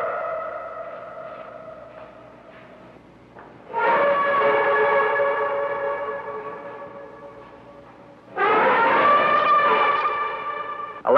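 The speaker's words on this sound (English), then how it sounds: "The famous shrill trumpet, varying in tone, indicates anger or want." An Indian elephant gives a shrill trumpet call that varies in tone. A fainter tonal call is followed by two loud, brassy blasts separated by a short pause.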